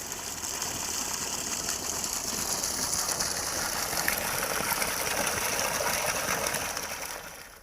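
Steady, loud rush of water gushing continuously from a 750W BLDC well pump motor, with a mechanical rattle underneath, no voices, fading slightly at the end.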